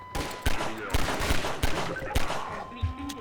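Rapid bursts of gunfire from the video game Half-Life 2 Episode 1, sharp repeated shots in quick irregular volleys, loud and close, with a few faint voice sounds mixed in.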